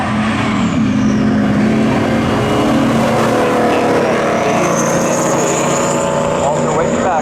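A '94 Camaro and an '88 Trans Am race side by side down a drag strip at a speedway spectator drags event, engines droning loudly and steadily throughout, their pitch shifting as they pull away.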